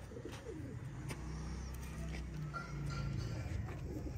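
Sialkoti Teddy pigeon cooing softly in a loft, low murmuring coos rising and falling over steady background hum, with faint clip-clop-like knocks and occasional distant bird calls.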